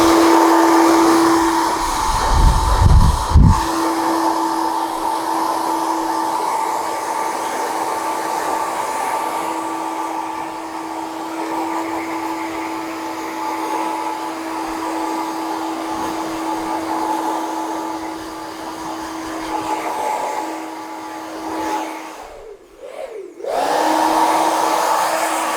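Hair dryer blowing through medium-length hair during a haircut, a loud steady whine that runs almost nonstop at close range, cutting out briefly near the end before starting up again, with no talking.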